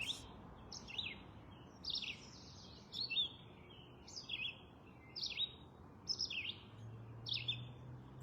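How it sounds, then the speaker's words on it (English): Short bursts of birds chirping repeat every second or so, bright and fairly close, over a quiet low background hum. "And you're hearing the birds."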